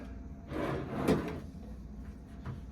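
A single cabin drawer on a cruise ship slides open and shut nearby, a soft wooden rumble with a light knock, in a quiet room.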